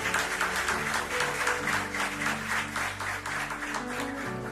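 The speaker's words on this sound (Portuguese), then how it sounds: "Vamos aplaudir a Jesus?" A church congregation applauds during a service, a sustained, fairly even round of many hands clapping heard from within the room, with a faint tonal hum underneath.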